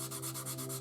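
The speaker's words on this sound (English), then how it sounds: "sanding the seam." Sanding a glued seam on a 1/48 scale plastic F/A-18D Hornet model kit, a faint, quick rhythmic rasp of back-and-forth strokes, about six passes in under a second, with no talking.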